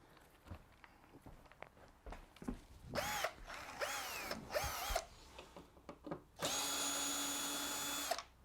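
A power drill backs out Phillips head screws on an LG washing machine panel: several short whirring bursts, then one long sustained high whine, close and loud, with handling clicks and knocks between.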